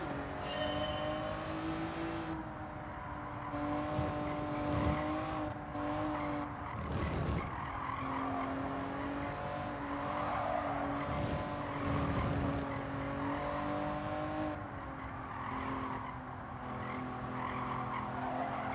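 A race car engine from Gran Turismo 7, an Acura NSX, revving steadily with gear-change dips and tire squeal through corners, loud and continuous with no talking.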